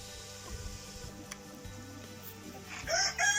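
A rooster crows loudly at the end, preceded by scattered background clucking and faint ambient noise; no talking.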